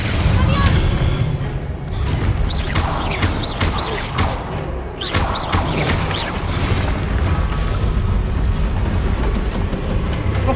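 An Incendio fire spell is cast in Hogwarts Legacy amid dense, loud combat, with booming blasts, crashes and whooshing bursts layered continuously over the whole stretch and a voice talking over the game.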